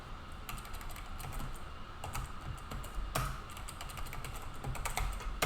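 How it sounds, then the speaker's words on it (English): Steady, fairly quiet clatter of fingers typing on a computer keyboard while writing C code, with irregular keystrokes and short pauses and no voice. "I'm typing less, so I'm just putting these numbers in here."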